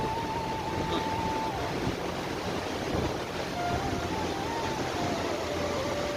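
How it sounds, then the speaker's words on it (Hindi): The Saraswati river rushes past at Mana village in the mountains, a constant, close roar of flowing water with no pauses. "यही सरस्वती नदी है"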